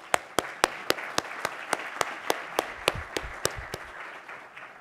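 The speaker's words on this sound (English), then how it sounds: "a round of applause for all of them for supporting what is the best showcase of its kind" Sparse, evenly spaced claps ring out one after another at an opening keynote for a farm showcase, a small scattered round of applause rather than a full crowd.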